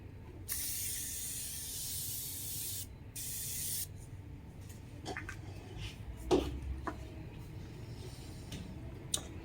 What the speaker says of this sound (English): I'm going to take my Reviving Marine Mist and I'm going to spray.